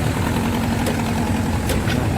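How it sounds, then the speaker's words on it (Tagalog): A Yamaha YTX125 motorcycle engine runs roughly and unevenly at idle, a steady loud low rumble that misfires and stumbles as it tries to stall. "Yan, umaandar guys. Yan. Oh, pero namamatay siya."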